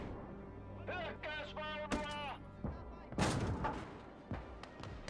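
Tank cannon fire in Call to Arms: Gates of Hell on the Eastern Front, with BT-5 and BT-7 tanks in combat: a few heavy booming shots with a large blast around the middle, mixed with game sounds and voices.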